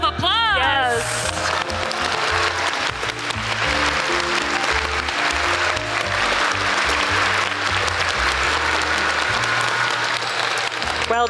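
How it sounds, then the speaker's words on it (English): Loud, sustained audience applause and cheering fill a hall at the Final Fantasy XIV Fan Festival in London, with a dense crowd roar continuing throughout. "give yourselves a huge round of applause"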